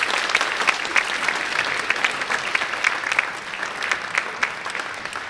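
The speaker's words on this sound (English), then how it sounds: "Let's have a round of applause for the men's soccer seniors." Sustained applause from an audience at an athletic honors and awards ceremony, honoring the men's soccer seniors, a dense, steady clapping from many hands that carries evenly throughout at moderate loudness.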